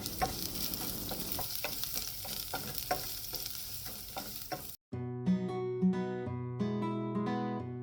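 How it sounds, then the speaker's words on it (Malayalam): Chopped garlic, ginger and green chillies fry in a pan, with a faint sizzle under repeated scraping stirs, before music takes over for the last few seconds. "ഇനി ഇതിലേക്ക് 6 വെളുത്തുള്ളി ചോപ്പ് ചെയ്തതും ചെറിയ ഒരു ഇഞ്ചിയുടെ കഷ്ണം ചെറുതായി ചോപ്പ് ചെയ്തതും 2-3 പച്ചമുളക് ചെറുതായി ചോപ്പ് ചെയ്തതും ഇട്ട് നന്നായിട്ട് ഇളക്കി കൊടുക്കുക."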